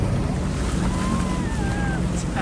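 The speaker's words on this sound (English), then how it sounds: "Just chilling on a jet ski." A jet ski runs on the ocean off Miami, its engine whine rising in pitch under a rush of wind and splashing water close to the microphone.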